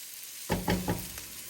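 Tomato paste hits a pan of onions that have been cooking for about five minutes, setting off a sudden burst of sizzling with several crackling pulses that settle into a softer, steady fry.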